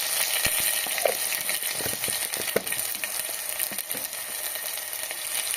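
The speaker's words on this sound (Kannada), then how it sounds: "ಅದನ್ನು ಒಂದು ಸ್ವಲ್ಪ ಫ್ರೈ ಮಾಡಬೇಕು ಈಗ" Garlic paste fries in a pan with a continuous, close sizzle, broken by scattered light clicks and taps of stirring throughout.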